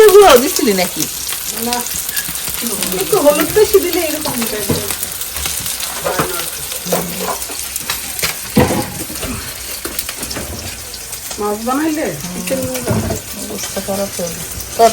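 Fish sizzling and frying in a pan, a steady crackle running throughout with stirring and some water splashing nearby, while people talk over it.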